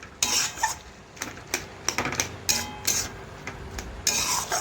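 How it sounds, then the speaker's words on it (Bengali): A spatula mashes cooked pumpkin curry in a pan with repeated close scraping and rubbing strokes against the metal, irregular and fairly crisp, with no talking. "আমি একটু খুরপিটা দিয়ে এইভাবে একটু ম্যাশ করে নিচ্ছি।"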